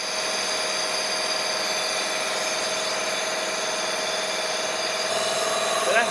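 An old Allis Chalmers tractor engine being turned over during restoration, a steady loud whirring drone with a high squeal running throughout, close by and unbroken.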